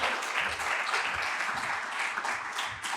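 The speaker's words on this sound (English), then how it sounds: "Another round of applause, please." An audience applauds a Member of Parliament at a green-sector skills event, dense steady clapping throughout, fairly close, with no voices over it.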